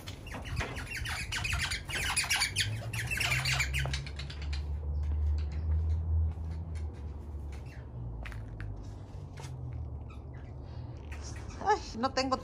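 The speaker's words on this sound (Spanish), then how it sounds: "Oigan los pájaros, óiganlos." Birds squawk and chirp outdoors, busiest in the first few seconds as a cluster of sharp calls, then thinning out over a low steady rumble, with a couple of brief calls again near the end.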